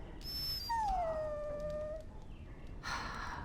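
A dog whimpers in a Dragon Age: Origins scene, with a long, falling, whining tone drawn out over a second or so, then a short breathy sound, heard close and alone with no talk.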